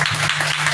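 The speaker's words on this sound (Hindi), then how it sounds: "सभी जोर से प्रभु के लिए ताली बजाएंगे।" A church congregation claps loudly for the Lord during a Hindi-language sermon, a brief burst of continuous, dense applause filling the room.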